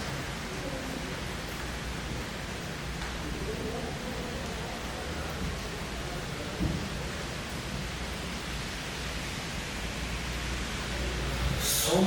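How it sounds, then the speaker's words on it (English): Heavy rain pours down as a broad, continuous roar with low rumbling underneath, steady throughout and swelling slightly toward the end, with no talking. "So much rain."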